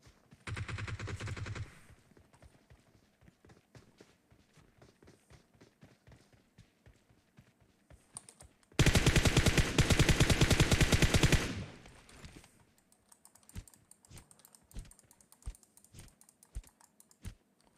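Automatic gunfire from a gun in PUBG Mobile: a dense, loud burst of rapid shots lasting a few seconds, framed by scattered single clicks and shorter bursts before and after.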